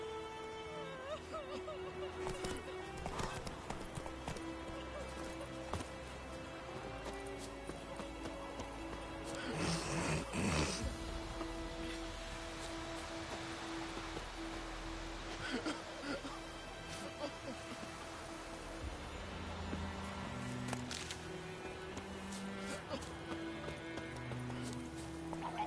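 The horse Roach in The Witcher 3 gallops with quiet, rhythmic hoofbeats under game music and ambience, with a louder burst of movement midway and some game voices at times.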